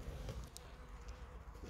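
Buckfast honeybees hum faintly around the flight board at a hive entrance, with a soft, steady buzz and a few louder passes of individual bees close by.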